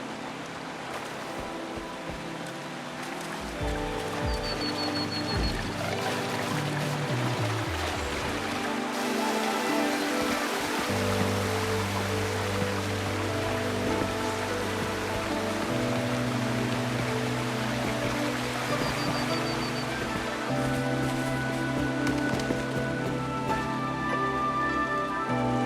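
Steady rushing water from a waterfall in the video game Wuthering Waves, a dense continuous wash that holds level throughout alongside layered tonal music, with no talking.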